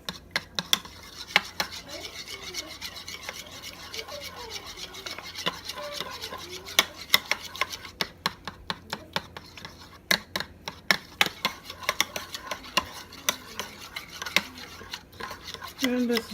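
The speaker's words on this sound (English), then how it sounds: "let's go ahead and mix this together. This is going to be our icing for our" Low-carb cinnamon roll icing is stirred and mixed in a bowl, with repeated scraping and clinking of a utensil against the dish, uneven strokes running throughout, and a voice speaking over parts of it.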